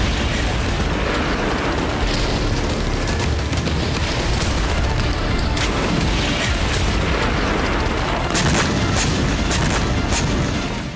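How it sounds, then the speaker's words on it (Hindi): Explosions from an Israeli aerial bombardment of Gaza, a loud, dense rumble of blasts with sharp bursts and crackling, sustained throughout with no speech. "इजरायली सेना ने शनिवार को गाजा के 30 से अधिक जगहों पर हवा से बमबारी की।"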